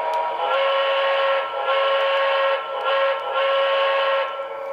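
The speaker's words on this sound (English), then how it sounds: "13's grade crossing signal." A model Pennsylvania Railroad S2 6-8-6 steam turbine locomotive sounds its grade crossing whistle signal, a steady chorded steam whistle played in a long-long-short-long pattern, loud and close with no voices.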